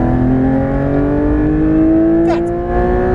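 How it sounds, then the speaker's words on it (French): Porsche 911 GT3 RS pulling hard at full throttle on a racing circuit, a loud in-car engine drone whose pitch climbs steadily through the gear, with a brief shift-like dip near the end. "Allez, on reprend du gaz. Et c'est reparti. Pied au plancher."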